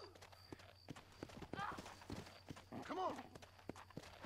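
Horse hooves clip-clopping at a steady walking rhythm in the Red Dead Redemption video game, moderately close, with a person talking over them.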